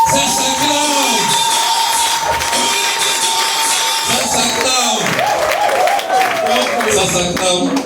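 An audience at a company open day gathering claps and cheers loudly and continuously, with whoops and shouts over dense applause while voices talk above the crowd noise throughout.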